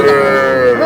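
A young bull calf at a cattle market gives one short, close, loud moo that rises slightly at the end.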